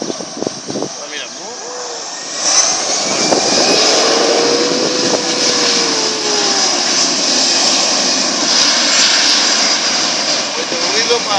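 An Iberia Express airliner takes off at Vigo airport, its jet engines building to a loud, sustained roar heard from outside on the ground, while people talk over it throughout.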